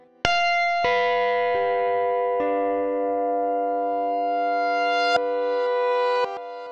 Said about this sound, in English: A reverse layer with adjustable samples,